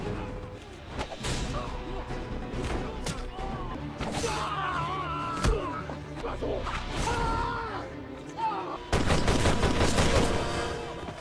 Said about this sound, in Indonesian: Di sini terjadilah aksi tembak menembak dan tusuk menusuk